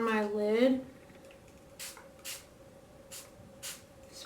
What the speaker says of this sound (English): Spray the brush.